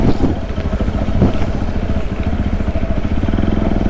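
A motorcycle with its front tyre slipping rides a dangerous, rough mountain road in Mustang, Nepal, its engine droning steadily and close with some rattling clatter, no talk over it.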